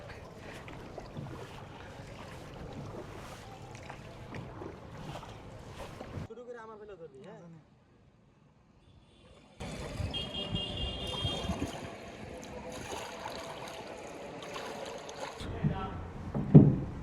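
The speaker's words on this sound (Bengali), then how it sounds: "আজকে আসছি ডালিয়া ব্রিজে যে নৌকা চালাইতে" A small boat rowed on the Teesta river near Dalia bridge, with paddle splashes and water movement under wind noise, a quiet gap in the middle, then louder water and hull sounds.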